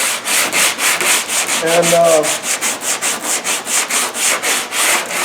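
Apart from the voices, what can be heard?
block sanding car body panel with 80 grit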